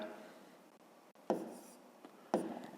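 Pen strokes scratching on paper as decimal numbers are written out during a fifth-grade division exercise, two short bursts of close scribbling after a quiet pause, with a faint voice at the start.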